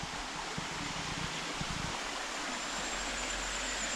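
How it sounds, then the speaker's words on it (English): Babbling brook running behind the dishwashing sinks at a French campsite, water from the Pyrenees: a steady, full rushing and gurgling flow, close and continuous with no talk, a faint bird line in the background. "there was a babbling brook behind all those dishwashing sinks."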